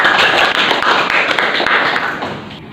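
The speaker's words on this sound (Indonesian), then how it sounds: "Beri aplaus ke kelompok 2." Classroom applause for a student group after their presentation, a dense steady clapping from many hands throughout, loud and close, tapering slightly at the end.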